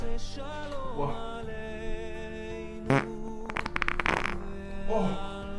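A person on a casual French live stream lets out a fart, heard as a short, loud burst around the middle against a background of steady tonal hum, followed by a second crackly buzzing burst a moment later.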